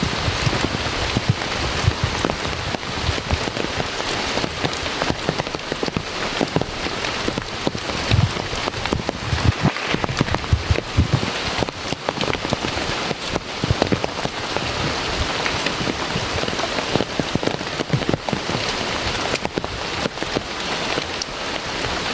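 Steady rain falls on a remote, misty village, a dense continuous hiss of drops on surfaces that holds even throughout with no voices.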